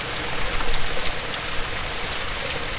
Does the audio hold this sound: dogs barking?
no